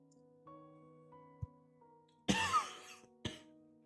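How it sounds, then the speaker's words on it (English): Two harsh coughs ring out over a quiet, humming room. The first is a longer, raspy fit and a single short cough follows it. "You're like coughing up a lung."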